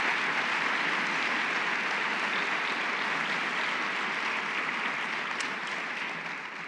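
A lecture audience applauds steadily and loudly, a dense wash of many hands clapping that holds throughout and eases only slightly near the end, with no voices over it.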